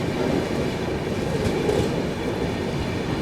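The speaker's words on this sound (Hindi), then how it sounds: "यहाँ पर अपनी गीतांजलि एक्सप्रेस जो है सेवाग्राम स्किप करने जा रही है" The Gitanjali Superfast Express, running Howrah to Mumbai CSMT, rolls through Sevagram station without stopping, heard from aboard as a loud, steady rumble of wheels on rails with faint clatter throughout.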